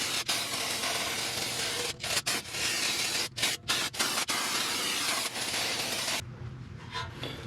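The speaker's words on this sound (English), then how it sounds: "Take the opportunity to brake clean everything on the inside." Brake cleaner sprays inside the wheel area of a second-generation Honda Pilot as a loud, continuous aerosol hiss, broken by several brief pauses, before cutting off near the end.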